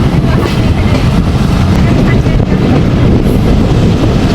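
A passenger train running from Rajshahi to Nachole, heard from inside as a steady, loud low rumble with continuous rolling rail noise and wind, unbroken throughout.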